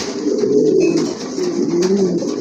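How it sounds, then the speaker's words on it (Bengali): Fancy pigeons coo close by in a continuous low, throaty rolling call, loud and steady with brief dips. "এই যে দেখেন কবুতর ডাকে কেমনি, মাশাআল্লাহ অনেক ভালো ডাকে"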